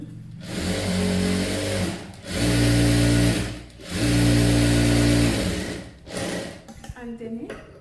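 A sewing machine stitches a saree umbrella frock in several loud, close bursts of steady whirring, separated by brief pauses, with a few handling noises and a quiet voice at the end.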